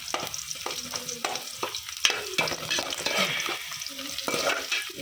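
Onions frying and browning in oil in a pan for fish curry, a steady crackling sizzle broken up by frequent scraping strokes of a spatula. The sound is close and fairly loud, with no talking.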